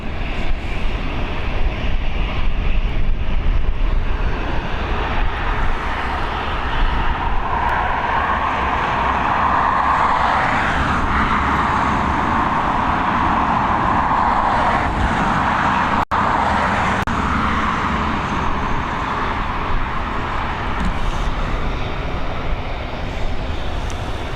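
An Airbus A320 jet departs Dublin Airport's runway 28L for Brussels in the evening, a long, loud, steady roar with a rising whine through the middle, heard alone.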